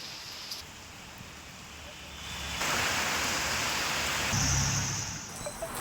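Dense, steady hiss of heavy rain pours throughout in north Pune district, swelling louder partway through, with a brief low rumble near the end.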